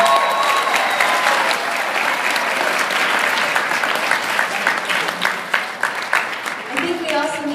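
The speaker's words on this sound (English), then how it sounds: "So round of applause for Mrs. Stein." Applause from the audience at a school celebration, a full burst of many hands clapping that thins into scattered claps as a voice begins speaking near the end.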